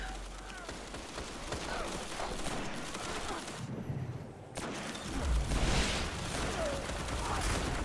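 Invective weapon firing in Destiny crucible multiplayer, a dense burst of rapid gunfire and explosive game effects, loud and continuous with a short lull midway.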